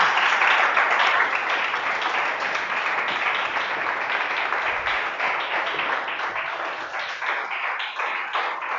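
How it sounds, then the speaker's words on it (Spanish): A church congregation applauds during a Spanish-language sermon, producing sustained, dense clapping that stays steady and loud for several seconds, slightly fading toward the end, with no talking. "Dele un aplauso fuerte a Jesús"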